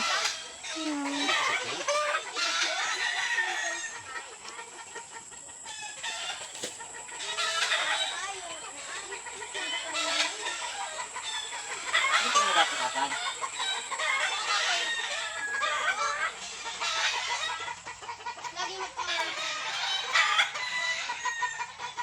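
Hens cluck and squawk continuously at close range in a chicken coop with chicks, with a rooster crowing now and then amid farmyard bird chatter.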